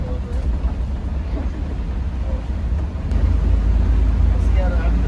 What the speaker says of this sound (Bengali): রাতের রোডের রাতের 4 লেনের রাস্তাতে এই ঝুম বৃষ্টির সাথে হুন্দাই এর সাসপেনশন কেবিন নয়েজটা আপনারা শুনে নেন।